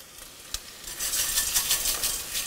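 Garlic sweating in olive oil in a pan while being stirred, a steady soft sizzle with scraping and light utensil clinks against the pan, close and alone with no talk.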